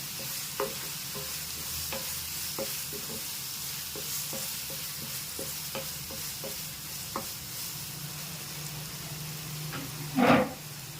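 Masala with half a spoon of turmeric frying in oil for a fish fry, a steady close sizzle with occasional light stirring taps and a brief louder scrape near the end.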